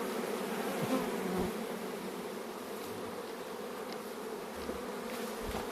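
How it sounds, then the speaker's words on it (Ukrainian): Constant buzzing of a crowd of honeybees at the hive, a close, even hum that holds steady without pause. "так бджоли наші працюють."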